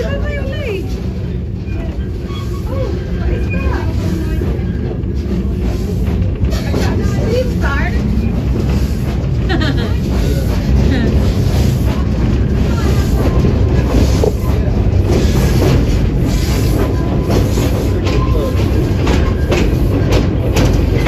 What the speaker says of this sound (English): Choo choo, it's moving, Olai.